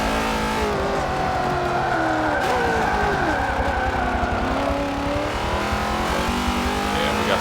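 GT league race cars in a racing video game, engines roaring and revving continuously at close range with shifting pitch and some tire squeal.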